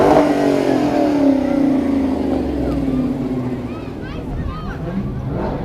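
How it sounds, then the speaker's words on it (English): High-powered late model Mopar cars rev and roll past in a parade, a loud engine roar gradually fading as they pass, with people talking over the rumble. "The Mopar section of our parade, these are high-powered late model cars."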